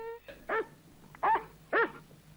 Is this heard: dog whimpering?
yes